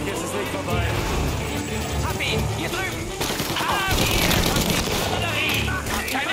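Gunfire in the video game Mafia: Definitive Edition, dense bursts of shots and booms under steady loud game noise, with a player's voice talking over it.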